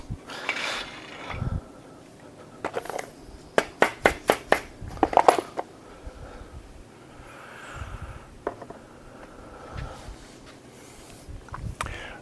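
Metal main bearing caps from a 5.9 Magnum engine being set onto the block, a run of sharp clinks and taps clustered in the middle, close by and fairly quiet, between softer handling sounds.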